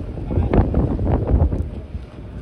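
Strong wind buffets the microphone aboard a yacht out at sea off Alexandria, with a low, continuous rumble and gusty roar over faint boat and water noise, and a voice barely audible beneath it.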